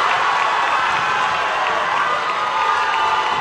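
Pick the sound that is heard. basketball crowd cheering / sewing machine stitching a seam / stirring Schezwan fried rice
basketball crowd cheering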